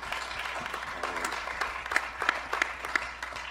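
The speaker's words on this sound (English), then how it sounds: "you guys really need to give yourselves a round of applause" An audience claps in a round of applause at an arts event about the homeless crisis, a mix of scattered and steady claps with a few sharp louder individual claps standing out near the end.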